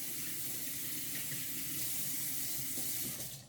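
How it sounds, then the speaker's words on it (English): Hands are washed under a running kitchen tap at a sink, a steady, close, hissing rush of water that keeps an even level throughout, with no talking. "I'm going to wash my hands."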